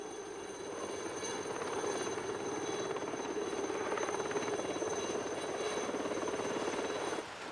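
A steady, droning helicopter engine with a continuous rotor hum, fairly constant in level throughout, with no voices.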